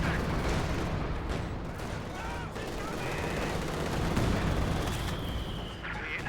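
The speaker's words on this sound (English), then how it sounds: "It's the 120 barrage. Double barrage." A double barrage of 120mm artillery in a video game rumbles as a dense, continuous roll of blasts and gunfire, loud and sustained throughout, with a voice talking underneath.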